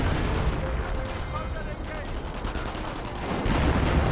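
Vickers machine gun fire in Company of Heroes 1, a British-versus-Wehrmacht match, with dense gunfire and battle noise running steadily under a commentator's talk throughout.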